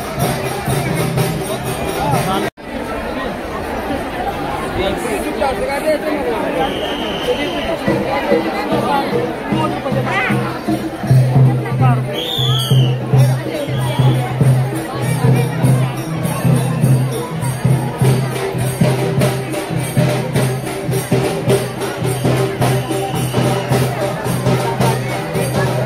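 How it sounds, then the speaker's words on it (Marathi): Busy crowd chatter at market stalls during Navratri, a dense steady babble of many voices filling the scene throughout, with people talking nearby over the continuous hubbub. "आज नवरात्रीमुळे भरपूर गर्दी आहे मित्रांनो, मजबूत गर्दी आहे."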